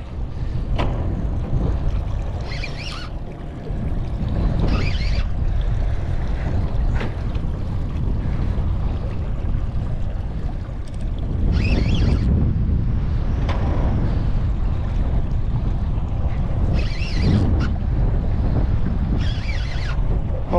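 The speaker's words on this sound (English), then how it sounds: "This wind is just crazy." Strong wind buffets the microphone on a fishing boat at sea, a continuous roaring rumble with repeated gusty surges and wave wash, no talking.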